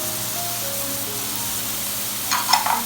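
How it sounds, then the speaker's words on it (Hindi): Carrots and lightly sautéed onions fry in a pan with a steady, soft sizzle, then a short burst of stirring clatter near the end. "और इसको भी हम थोड़ा सा फ्राई करेंगे 1-2 मिनट के लिए"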